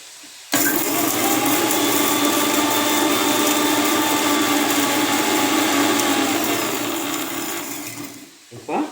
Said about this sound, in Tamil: பாருங்கள், இன்னும் கொஞ்சம் அரைச்சிக்கலாம்